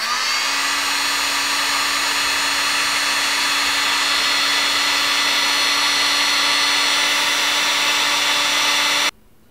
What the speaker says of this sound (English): Let me now apply heat using my heat gun.